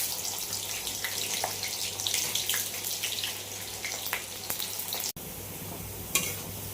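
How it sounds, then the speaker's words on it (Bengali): Onions frying in oil in a wok, a steady close sizzle with occasional stirring scrapes and clinks, one sharp break near the end, no talking. "প্রথমে পেঁয়াজ দিয়ে দেবো।"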